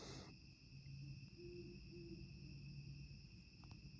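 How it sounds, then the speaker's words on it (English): Owls hooting in the woods at about 5:30 in the morning before dawn, soft low calls repeating at a distance over a faint steady insect hum, with no talking. "the owls have woken me up."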